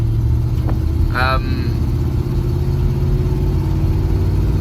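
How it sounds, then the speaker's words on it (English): A van's engine runs loudly and continuously on the road, a steady low rumble and drone throughout, with a brief higher squeal partway through. "again, sorry for the loud noise of the engine."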